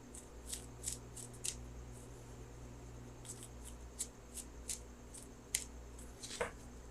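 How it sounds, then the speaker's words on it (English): Tarot cards being shuffled in a quiet room: a series of soft, brisk riffling bursts in short clusters, each one faint and close, with no talking. "So I'm going to shuffle for that outcome card."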